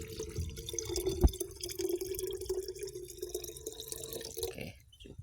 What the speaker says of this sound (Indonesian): ini air cucian beras yang pertama ya sobatku. Nah, langsung kita tuang ke sini